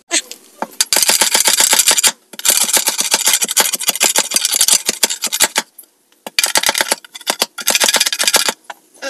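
A wooden axe handle is smoothed after cutting, heard as close, loud, rapid rasping strokes in several long bursts separated by short pauses.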